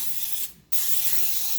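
Hissing bursts from an aerosol cooking spray can onto a stoneware baking pan, a long steady spray, a brief pause, then another sustained spray, close and fairly loud.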